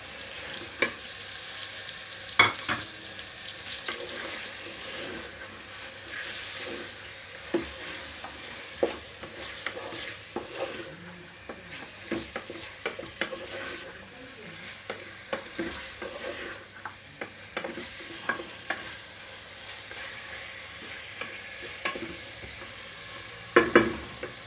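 Chicken gravy with tomatoes sizzles softly in a pan while a spoon scrapes and stirs in irregular clicks and knocks, close up and quiet, without talk.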